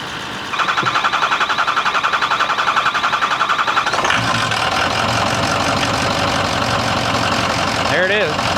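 A Ford F250 6.0L Powerstroke diesel engine cranks and fires up, settling into a loud, steady idle with a rhythmic knock close by. The running engine continues under a brief voice near the end.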